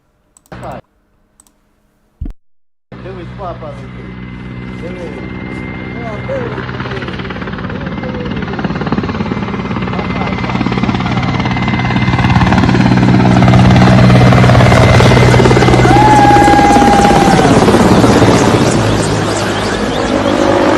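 An aircraft engine roars in after a few clicks, building to a loud, close drone overhead as it flies low over a street in Ukraine during wartime, holding steady for most of the clip.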